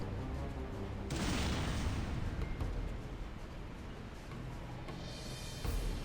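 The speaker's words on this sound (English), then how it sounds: "Not as big of an explosion as I thought, but we did it." A bomb blows up a vent in Xenoblade Chronicles: Definitive Edition, a sudden loud boom followed by a rumbling, fading roar and a second burst near the end, with no talking.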